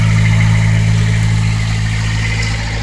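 A boat's engine runs below deck with the hatch closed, a loud, steady low drone with a constant hum that holds unchanged throughout, heard alone.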